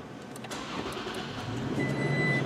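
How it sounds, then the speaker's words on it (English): A Toyota truck engine turns over and starts with a smart key, cranking briefly before settling into a steady, close idle hum that gradually grows louder. "See, it starts the truck."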